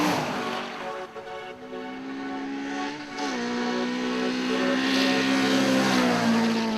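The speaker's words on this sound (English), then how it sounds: "There's nothing quite like the sound of a well-prepared engine being revved to the limit" Racing car engine at the 2009 Knysna Simola hill climb revving hard, a steady high-pitched drone that dips briefly then climbs again, loud and continuous with no voices.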